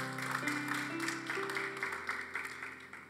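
A congregation claps during a church worship service, steady applause under sustained music and organ-like tones, moderately loud and continuous.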